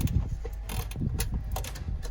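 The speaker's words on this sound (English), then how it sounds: "Now I just have a ratcheting wrench." A ratcheting wrench tightens a fog light bolt during a factory fog light install on a 2003-2006 Chevrolet Silverado, giving a close, quiet run of rapid clicking with no talk.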